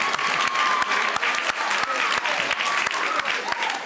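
An audience claps at a student speaking contest, a loud sustained patter of many hands with a few sharper individual claps standing out, and a faint voice or whistle riding over the applause.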